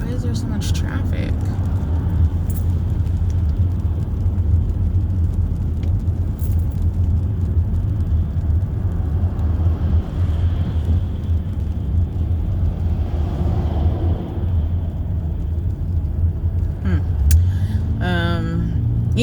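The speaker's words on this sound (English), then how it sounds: "Why is there so much traffic?" Steady road traffic rumbles from inside a moving car, a constant low drone of engine and tyre noise with a person talking over it throughout.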